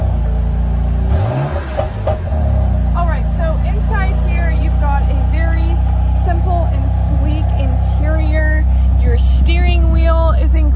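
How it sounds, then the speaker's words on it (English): A 2019 BMW M4 Convertible with the Competition Package and 444 hp engine cranks and fires up, settling into a loud, steady idle rumble with occasional blips, while a person speaks over it. "So let's start it up real quick."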